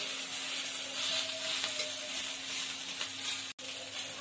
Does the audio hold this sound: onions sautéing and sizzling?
yes